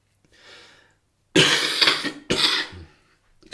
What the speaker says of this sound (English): I might cough during this.